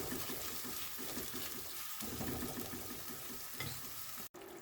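Curry paste for a fish curry sizzles and bubbles in hot oil while a spoon stirs it in a pan, with a steady, close frying hiss and soft scraping strokes, and no talking.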